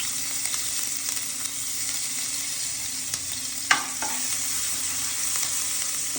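Ginger added to hot oil while making vegetable soup, with a steady sizzle and frying hiss throughout and a few clinks of a spoon stirring in the pan.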